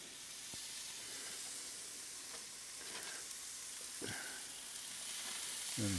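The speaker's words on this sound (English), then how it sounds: "Ah, can you hear that sizzle?" Quiet, steady sizzling hiss of meat skewers cooking on a grill, with a couple of soft taps and a brief low thump near the end.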